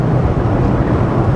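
Rover 3500S (P6) V8 engine droning steadily while driving, a dense low rumble mixed with loud, constant wind noise throughout.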